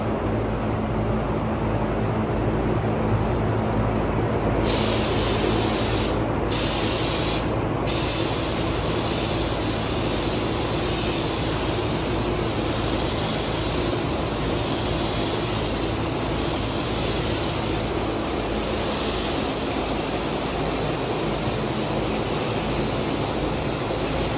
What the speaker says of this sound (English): So right now we're going to spray DPLV 50.